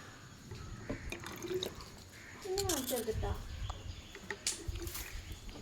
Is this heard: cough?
no